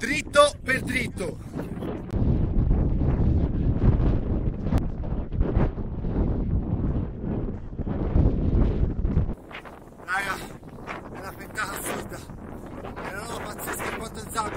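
Strong wind roars across the slopes of Mount Etna on a hike, a loud, continuous rumble of gusts buffeting the microphone that eases partway through, with people talking over it at the start and end.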